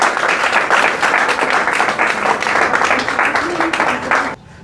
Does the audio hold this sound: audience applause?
yes